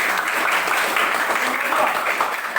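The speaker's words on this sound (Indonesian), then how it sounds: "aplaus dulu." Classroom applause in a teacher training session, a continuous broad patter of clapping from a group, fairly loud and steady across the whole stretch.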